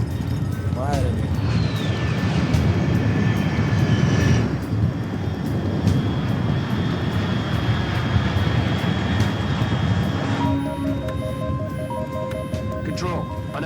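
Aircraft engine in the video game Metal Gear Solid Delta: Snake Eater, a loud continuous roar and drone with a steady tone, joined near the end by electronic beeping.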